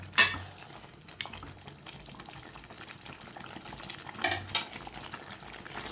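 Kerala-style chicken curry stirred in a pan, a steady low bubbling and simmer with occasional clinks of a spoon against metal, close and moderately quiet, no voices.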